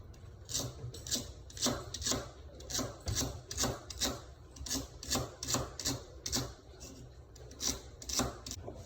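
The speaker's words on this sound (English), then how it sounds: "So when cutting up the celery, we just make thin slices." A knife slices celery into thin pieces, roughly a quarter inch thick, for albondigas soup, giving crisp rhythmic cuts that land about twice a second, close and clear against a soft board with no talking.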